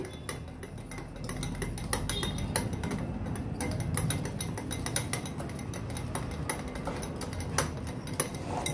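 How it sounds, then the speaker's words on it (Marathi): Gram flour (besan) being stirred with a little water in a bowl, heard as a steady run of light clinks and scrapes of a spoon against the vessel with no talking. "अगदी थोडंसंच पाणी घालून हे पीठ व्यवस्थित आपण मिक्स करून घेऊया"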